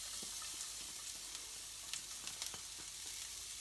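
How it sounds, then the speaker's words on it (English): Diced onions sweat in a hot pan, giving a steady, moderate sizzle with faint crackles and scattered light clicks, likely from stirring, and no voices. "first of all we've got to sweat off these onions"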